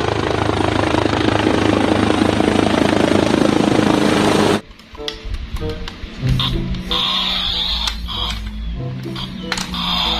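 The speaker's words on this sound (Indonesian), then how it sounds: "Wow, di sini ada pesawat helikopter." A Spider-Man toy set's toy helicopter gives off a loud, whirring rotor sound that cuts off abruptly after a few seconds, followed by plastic clicks and handling noises.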